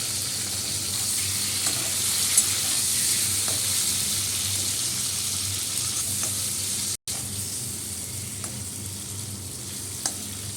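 Shrimp frying in a pan of hot oil, a steady, even sizzle with faint crackles and pops, close and continuous, briefly interrupted once before resuming.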